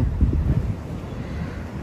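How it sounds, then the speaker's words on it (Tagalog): Gusty wind buffets the microphone in low, uneven rushes, with a soft wash of surf in the background, on an afternoon at Dolomite Beach. "sarap ng simoy ng hangin ngayong hapon"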